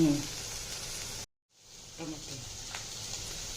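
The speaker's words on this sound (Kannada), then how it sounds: "ಇವಾಗ ಅದು ಪಿಂಕಿಶ್ ಆಗೋವರೆಗೂ ಫ್ರೈ ಮಾಡ್ಕೋಬೇಕಲ್ವಾ?" Steady frying sizzle from a pan of poha, broken by a brief silence midway, then resuming more quietly with a few small clinks and stirs.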